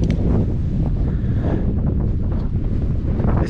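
Strong wind roars steadily across an exposed Scottish mountain summit near a trig point, a loud continuous buffeting rush battering the microphone with no pauses or voices.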